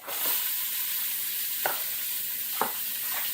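Onion hitting hot fat in a pot for cubed beef steak with tomato gravy, giving a steady close sizzle with a few sharp crackles and no talking.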